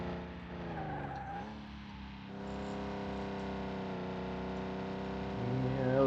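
Racing car in Car Mechanic Simulator 2021 with an inline-six engine, its steady engine drone dropping as the brakes come on and the tires squeal, then the engine pulls again and rises near the end, loud and close with no talk.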